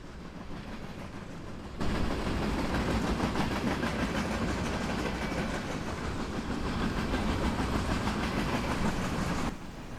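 A freight train loaded with Army equipment such as M777 howitzers and Joint Light Tactical Vehicles rolls past close by, a loud continuous rumble with rhythmic wheel clatter that rises abruptly and cuts back near the end.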